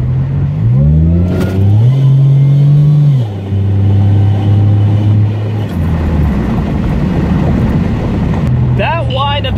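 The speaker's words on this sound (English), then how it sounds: "That whine of the supercharger is so addictive." A 2001 Pontiac Grand Prix GTP Special Edition's supercharged engine revs loudly up and down, its harmonic whine rising and falling over a steady idle drone, with some wind buffeting the microphone.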